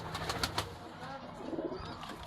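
A colorful fancy pigeon at a pigeon farm in Rajshahi coos in a few soft, low throaty pulses early on, followed by quieter bird noise and faint background sounds, with no clear talk.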